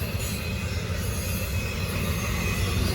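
A Norfolk Southern freight train led by ACE locomotives rolls past close by, a continuous heavy rumble with squealing wheels and a steady high metallic whine, no voices.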